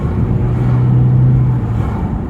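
A Mk1 Ford Mondeo engine drones loudly and steadily at about 3,000 rpm in third gear, its pitch rising slightly as it pulls under load, then easing off.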